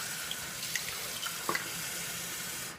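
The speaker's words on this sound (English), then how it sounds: "I just fill that up with water so I don't have to turn the water back on" Tap water runs steadily into an Old Spice shaving mug at a sink, a continuous close splashing stream with small clinks, ending abruptly as the flow stops.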